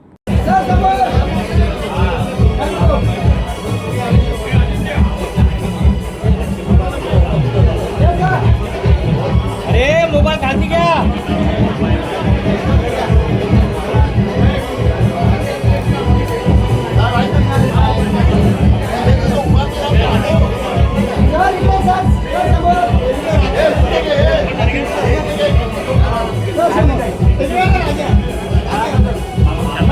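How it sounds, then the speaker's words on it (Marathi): A dense crowd of Shiv Sena supporters and party workers gathers to congratulate an MLA after his win. The loud, continuous babble of many voices carries a rhythmic undertone, and one voice calls out near the start. "पदाधिकारी, शिवसैनिक, कार्यकर्त्यांनी येथे एकच गर्दी केली होती."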